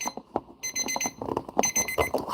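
A timer alarm goes off with rapid, loud electronic beeping in repeated bursts and brief gaps, close and alone with no talk.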